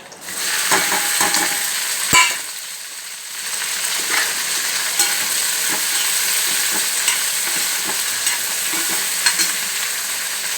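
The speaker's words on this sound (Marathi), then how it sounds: "आधी मैत्रीण भेंडी तेलामध्ये चांगली हलवून घ्यायची" Okra frying in hot oil with garlic sizzles constantly and loudly while a spoon stirs it, scraping and clicking now and then against the pan, with no one speaking.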